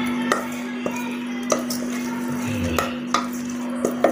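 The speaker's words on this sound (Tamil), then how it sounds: "தயிரில் எல்லாம் மிக்ஸ் பண்ணுறோம்." Chopped vegetables are mixed into curd in a bowl for a sandwich filling, with a spoon clinking and tapping against the bowl at a slow, irregular pace, close by, over a faint steady hum and soft wet stirring.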